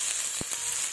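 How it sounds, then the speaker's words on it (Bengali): Potatoes and cauliflower frying in oil left over from frying fish give a steady, close, bright sizzle with a couple of brief soft pops. "মাছ ভাজা তেলের মধ্যেই আমি আলু ফুলকপিগুলো ছেড়ে দিলাম। এবার এগুলোকে ভেজে নেব।"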